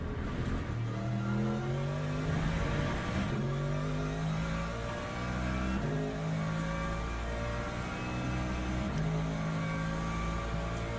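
Hypercar engines race in the Le Mans Ultimate sim at Sebring on a drying track, several cars revving and shifting with rising and falling pitch sweeps, loud and continuous with no talking.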